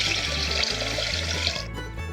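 Water is poured into a pressure cooker holding washed rice for sweet pongal, a steady close splashing stream that runs continuously and eases off slightly near the end.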